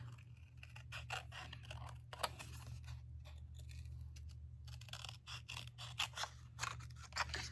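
Paper scissors snipping out a mug shape for a handmade card, a steady series of crisp close cuts with brief pauses, quiet and alone.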